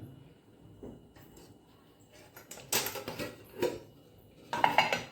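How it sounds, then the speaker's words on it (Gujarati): A metal pressure cooker set onto a lit gas stove before cooking vegetable khichdi, heard as a few sharp metallic clanks and rattles after a quiet stretch, close by and with no voices. "આપણે ગેસ શરૂ કરી ઉપર કુકર મૂકશું"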